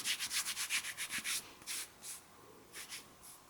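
Kinesiology tape is rubbed down onto a thumb with quick, close, rhythmic rubbing strokes, fast at first and then slower and more spaced out.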